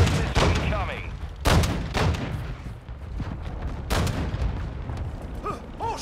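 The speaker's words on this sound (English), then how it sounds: "Hostile cruise missile incoming." A Call of Duty ground war battle carries heavy booms and sharp cracks from a cruise missile strike and gunfire, spaced irregularly with rumbling tails, while voices and chatter sound beneath.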